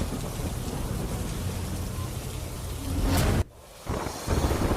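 Heavy monsoon rain pours down in the Popatpara area of Rajkot, where water is entering homes, a dense continuous hiss with deep rumbling thunder underneath, briefly cutting out before the downpour resumes.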